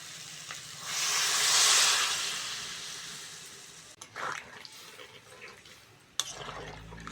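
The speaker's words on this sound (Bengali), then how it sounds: "এবার জল দিয়ে দেবো" Water hits a hot pan of village-style prawn and taro-potato curry with chilli powder, bursting into a loud sizzle that swells over a couple of seconds and then fades, followed by a few stirring clatters.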